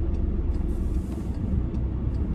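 A car rolls past an intersection during a road driving test in Oakville, a steady low engine and tyre rumble that stays fairly even and moderately loud, with no talking.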